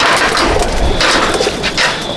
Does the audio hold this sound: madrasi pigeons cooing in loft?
yes